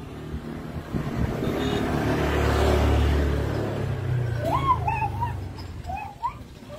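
A vehicle passes on the road, its engine rumble swelling to a broad peak and fading away, while bird chirps ring out nearby as it recedes.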